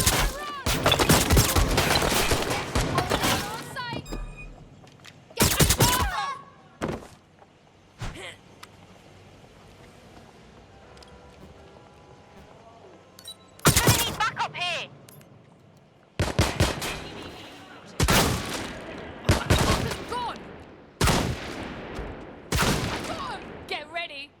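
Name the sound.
gunfire in the video game Watch Dogs Legion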